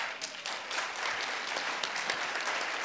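A political gathering audience breaks into applause for a speaking senator, a steady wash of many hands clapping at moderate loudness with scattered sharper claps.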